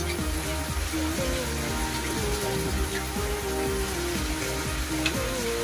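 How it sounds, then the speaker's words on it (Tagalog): Rain falls steadily in Bicol, a continuous, fairly loud hiss with tonal, wavering sounds layered over it throughout. "umulan dito mga lodi sa Bicol"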